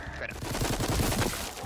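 Submachine gun fire in the VR zombie shooter Arizona Sunshine 2, a fast, loud burst of rapid rattling shots lasting under two seconds.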